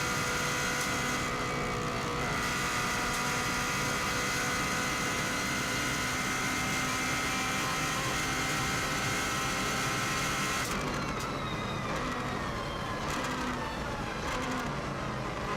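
A race car driven by Mark Higgins on the Isle of Man road course gives a loud, sustained engine roar close up, rising steadily under hard acceleration before the tone abruptly shifts near the end.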